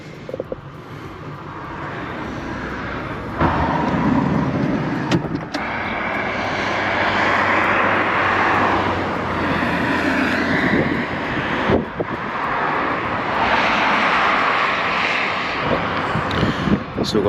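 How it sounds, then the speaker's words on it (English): Steady roadside traffic in an urban area of the UK, with vehicles rumbling past nearby in a continuous broadband wash that swells and fades as each one goes by, with a brief lull near the start and another around midway. "tons of traffic."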